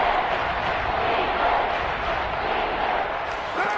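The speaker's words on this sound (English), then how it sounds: "the crowd getting into it as we come up on a big 3rd down" Stadium crowd in Madden 23 roaring and cheering ahead of a big third-down football play, a dense continuous wash of noise at steady loudness with no clear breaks.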